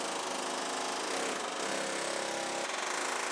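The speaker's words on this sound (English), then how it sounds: "I need an excuse to use the air chisel" An air chisel hammers rapidly and loudly up close as it cuts through the sheet-metal roof of a Chevrolet Silverado, a harsh continuous buzzing chatter with slight shifts in pitch as the tool moves.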